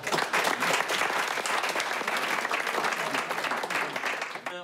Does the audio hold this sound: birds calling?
no